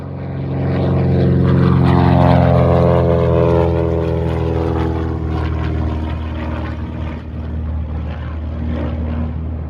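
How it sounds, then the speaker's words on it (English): Saab Safir propeller aircraft taking off from a runway or ice strip, a loud droning propeller engine with a clear pitch sweep as it passes and recedes, steady and prominent throughout. "there's an aircraft taking off, runway, iceway, not sure"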